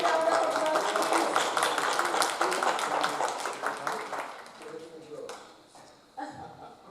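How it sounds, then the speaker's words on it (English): An audience at a medical and dental seminar applauds, with dense, steady clapping for several seconds that thins out and fades, while a voice talks over it near the end. "Energetic round of applause, please."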